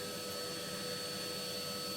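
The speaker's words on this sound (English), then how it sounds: "When we put the Hoover nozzle just like that, just down in there like that" A Hoover vacuum cleaner's nozzle pushed down into an Esse 350A wood-burning stove inset in a fireplace, giving a steady, loud motor whine and airflow roar with fixed tonal hums, running unbroken with no speech.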